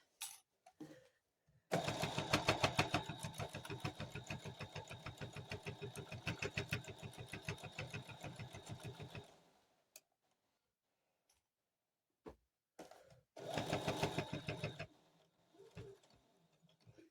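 A sewing machine stitches a quilted table runner in a long rapid run of even needle clicks, stops, then sews a second short burst after a quiet pause with small handling sounds.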